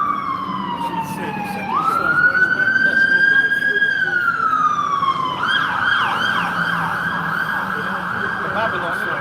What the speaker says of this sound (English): Babylon sirens.